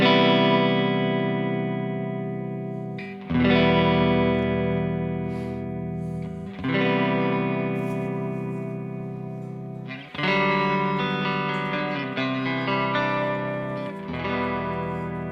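A sustained electric guitar chord throbs with a steady pulsing tremolo from a Kemper Profiler, restruck every few seconds, loud and centered with no side-to-side stereo panning.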